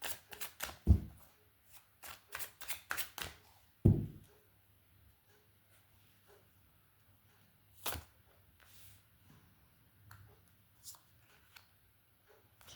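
Tarot cards shuffled by hand in quick riffling bursts near the start, then a few isolated card snaps and taps spaced out over a mostly quiet stretch.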